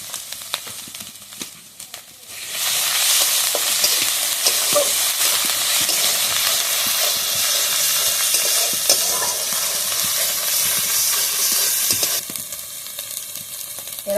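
Ginger-garlic paste hits a pan of fried onions and erupts into a loud, continuous sizzle that holds steady for about ten seconds before easing off, with quieter kitchen clatter before and after.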